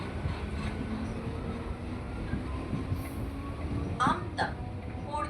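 A Howrah to Amta local train rumbles along steadily, low and continuous, with a couple of brief squeals or clanks near the end and faint voices in the carriage.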